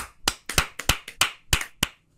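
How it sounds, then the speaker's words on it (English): Hands clap seven times in a slightly uneven rhythm, close and crisp, each clap sharp and separate, with a short silence after the last one. "I don't know why we're clapping."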